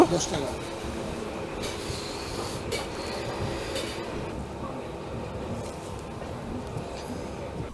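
A train departs platform four at Azimganj station, a steady low rumble of wagons rolling with faint wheel noise and a few brief squeals, fairly quiet and continuous with no clear talk.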